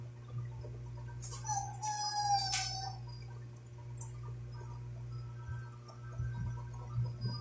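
Several dogs let out a brief burst of high whimpering and howling cries in the middle, then fall quiet over a steady low electrical hum.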